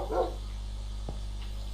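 Dog bark from a Minecraft game: one short burst near the start over a steady low hum, followed by faint quiet ticks.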